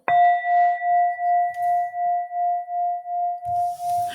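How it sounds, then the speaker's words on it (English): A single strike of a meditation bell rings out loud and clear, then sustains a steady pure tone that slowly pulses as it fades, with a faint rustle near the end. "I'm going to ring my bell."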